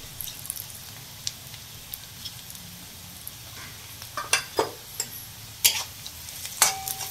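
Turmeric, coriander powder and red chilli powder sautéing in oil for a dried-fish dish, a faint low sizzle with a run of sharp spatula clicks and scrapes growing louder toward the end.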